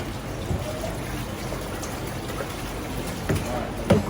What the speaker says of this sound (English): So we're gonna rinse them off.